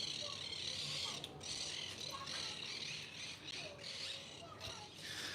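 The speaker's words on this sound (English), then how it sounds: "There's a bunch of parrots out here." A flock of parrots squawks outdoors in a continuous, busy chorus of harsh, raspy calls, faint and somewhat distant, over low background noise.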